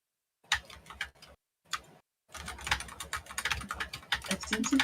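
Fast typing on a computer keyboard with a faulty num lock, short bursts of crisp key clicks separated by pauses, then a steady, dense run of clacking that continues to the end, close and fairly quiet.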